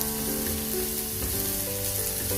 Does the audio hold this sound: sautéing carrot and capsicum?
yes